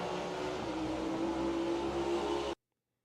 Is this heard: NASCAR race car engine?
yes